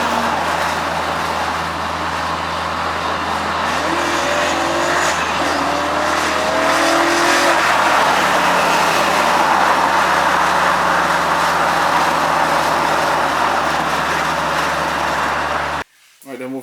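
A rear-wheel-drive Ford Transit van with a swapped BMW V8 drives hard, its engine droning loud and close with rising revs and tire noise, cut off abruptly near the end.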